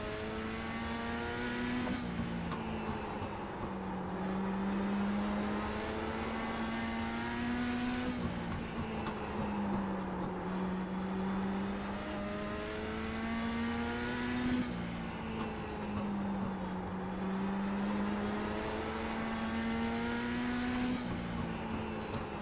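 Race cars lapping the Milwaukee Mile oval, a steady loud engine drone whose pitch rises and falls in repeating waves as cars sweep past, continuous throughout with no talk.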